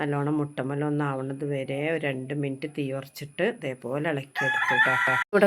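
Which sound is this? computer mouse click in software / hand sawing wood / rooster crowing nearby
rooster crowing nearby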